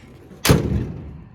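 A single solid clunk from the door handle and latch of a 1929 Ford Model A pickup, close and sharp, with a short decaying rumble after it.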